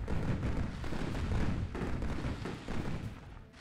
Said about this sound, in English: That's some fairly major booming.